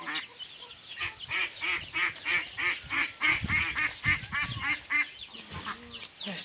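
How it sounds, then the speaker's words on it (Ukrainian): A close, rapid run of nasal quacking calls, repeated in a steady rhythm with brief gaps, loud and clear against a quiet outdoor background. "Тут і великі качки."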